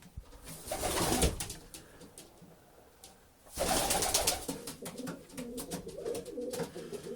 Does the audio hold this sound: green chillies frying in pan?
no